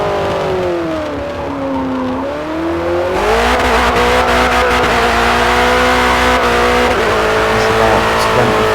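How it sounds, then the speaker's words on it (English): Ford GT40 Mk II race car accelerating hard at Le Mans, a loud close engine drone climbing in pitch, dipping briefly, then surging louder and holding a steady high roar with faint tire noise throughout. "It's about 25, but the car is all over the place now under acceleration."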